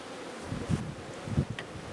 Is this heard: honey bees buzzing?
yes